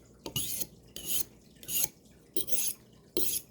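A knife blade is drawn across a sharpening surface in five evenly spaced, rasping strokes, each a bright scrape with short quiet gaps between, close and with no talk.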